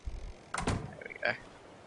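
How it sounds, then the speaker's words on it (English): A door closing in a survival video game on a boat, a short sliding thud followed by a higher mechanical clunk, moderately loud with no talk. "close door"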